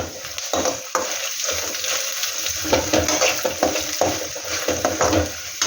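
Peanuts sizzle and crackle in a hot pan, with steady frying and occasional stirring scrapes, no voices.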